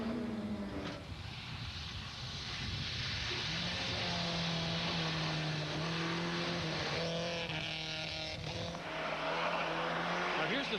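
A rally car runs flat out along a long icy stage of the 1999 Rallye Perce-Neige, its engine roaring loud and steady at high revs with shifting pitch as it passes close by.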